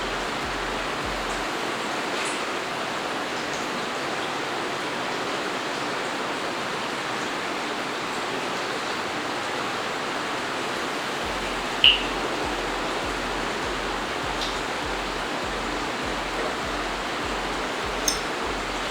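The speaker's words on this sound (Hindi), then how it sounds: "सम्प एक जगह से पानी खींच रहा होता है," A sump pump circulates water through a 7-foot home aquarium, producing a steady broadband rush and trickle of flowing water that continues evenly throughout, with a couple of faint clicks and no speech.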